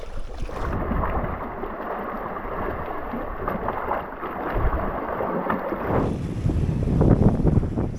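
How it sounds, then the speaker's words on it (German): Strong wind buffets the microphone with a steady, roaring rush over a rocky island in Lapland, gusting louder toward the end with no voices. "hier pfeift brutal der Wind drüber"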